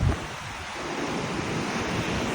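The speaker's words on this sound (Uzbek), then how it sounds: "Bu okean sohili," Pacific Ocean surf washing onto the California shore, a steady broadband roar of breaking waves mixed with wind buffeting the microphone, continuous and close with no voices.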